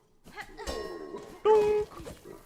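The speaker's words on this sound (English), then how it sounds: "the bell pogo sound effect is so satisfying" A short metallic bell chime from a pogo bounce in Hollow Knight: Silksong, a bright ringing tone rising out of game noise, heard alongside a brief voice.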